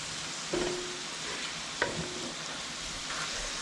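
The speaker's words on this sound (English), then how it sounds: "We're going to put in our grape jelly here now. Give that a stir" Grape jelly is stirred into a barbecue sloppy joe mixture in a pan, with a soft continuous sizzle and a few brief scraping clinks of the spoon, close and fairly quiet.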